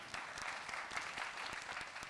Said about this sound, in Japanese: いやここで拍手出るのはちょっと嬉しいですけど